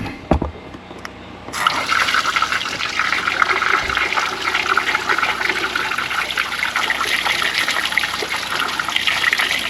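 Water flushes through a heater core hose on a Ram 2500 truck. A short thump and splash give way to a steady, loud rushing gush of water that continues to the end, close by with no talking.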